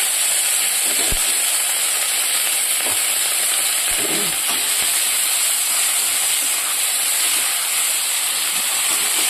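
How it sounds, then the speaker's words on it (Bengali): Chopped onions sautéing in a hot pan alongside fried dried fish, a steady loud sizzle and hiss throughout with a few brief stirring knocks. "পেঁয়াজটা সব একসঙ্গে দিয়ে দিলাম। এবার এটাকে ভালো করে কষিয়ে নেবো।"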